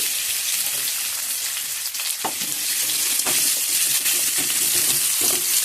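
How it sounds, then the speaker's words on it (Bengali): Chopped garlic and onion fry steadily in hot oil after potatoes, a dense continuous sizzle with occasional stirring clinks near the pan, no talking. "এই তেলের মধ্যে দিয়ে দেব রসুন কুচি, পেঁয়াজ কুচি"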